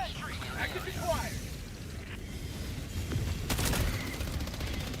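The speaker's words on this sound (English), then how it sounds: "Firing orbital barrage." Orbital barrage strikes in Helldivers, a bug-fighting mission on the hardest difficulty, rumbling as a steady layer of distant booms and gunfire with a louder burst near the end, under talk.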